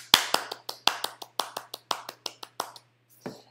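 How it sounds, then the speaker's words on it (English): Applause during an online college chemistry lecture: a dozen or so crisp, separate hand claps in an uneven rhythm, close and fairly quiet, ending with a softer final sound. "So let's all give a nice Sierra College warm round of applause."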